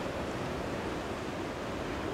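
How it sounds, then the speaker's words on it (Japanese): Ocean surf breaking on a beach in Miyazaki, Japan, at dusk: a steady, continuous wash of waves, fairly close and loud, with some wind noise and no talking. "うわいい波です、最高です。"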